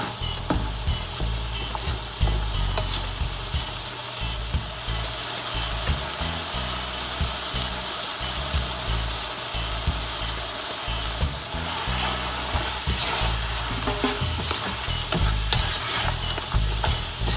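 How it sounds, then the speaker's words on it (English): Shrimp sizzle in a tamarind glaze reducing in a pan, a loud, close, continuous crackling bubble with repeated scraping and stirring clatter from a utensil against the pan. "See, the sauce is reducing there."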